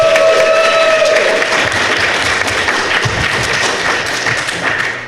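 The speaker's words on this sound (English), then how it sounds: "I'd like you to give a round of applause to each one as I introduce them" A convention panel crowd claps continuously, dense and loud, with scattered thumps and a brief tone at the start; the applause holds steady throughout.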